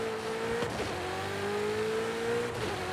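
Car engine revving during a spirited drive in the Forza Horizon racing game, a steady sustained engine drone that rises and holds with tonal harmonics, loud and close, with no talking over it.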